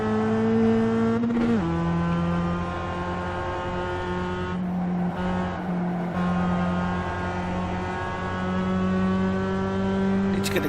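Race car engines at Summit Point in iRacing, a steady droning engine note close up with a sharp downshift early on and other cars humming nearby, constant and loud throughout.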